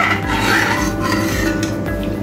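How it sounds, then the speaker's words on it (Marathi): A spoon scrapes and rasps steadily against the bottom of a pot of simmering rice kheer, a close, continuous stirring rub with no talk over it. "तर ही आपली खीर व्यवस्थित अशी आपण ढवळून घेऊया."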